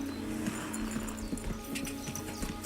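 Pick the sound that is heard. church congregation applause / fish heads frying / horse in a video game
horse in a video game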